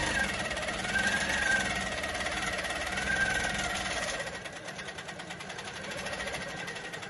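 A Handi Quilter longarm quilting machine stitching a straight line across a loaded quilt gives a continuous, even mechanical whirr with a fast rhythmic chatter, close and moderately loud, shifting slightly in tone partway through.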